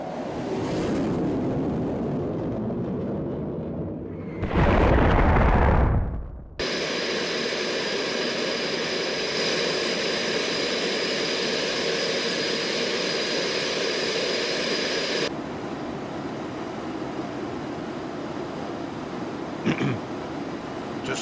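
Concorde jet engines in the X-Plane 12 flight simulator roar past in a steady broadband rush, with a brief louder burst early on, then a sustained even drone that eases slightly near the end.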